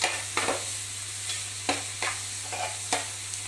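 Onions and green chillies sizzling in oil in a pan, stirred with several distinct scraping strokes over a constant hiss and a low steady hum.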